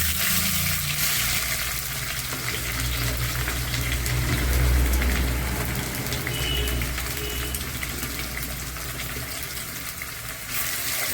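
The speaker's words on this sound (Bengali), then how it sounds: "তেল গরম হয়ে গেছে, গোটা গরম মশলা ফোড়নে দিলাম, আর দুটো তেজপাতা দিয়ে দেবো, কেটে রাখা পেঁয়াজ" Chopped onion, whole garam masala spices and two bay leaves sizzle in hot oil for a country chicken curry, a loud, steady, close hiss of frying that runs unbroken throughout.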